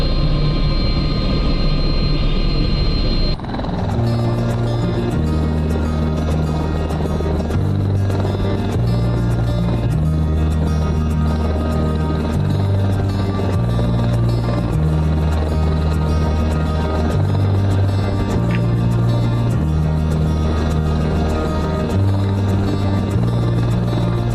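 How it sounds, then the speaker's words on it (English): Steady Airbus H120 helicopter noise from its 500 shaft horsepower jet engine, with a pulsing rotor thump under a turbine whine, loud and continuous after a brief change at the start. "way in and out of here for us is via helicopter. It's an Airbus H120"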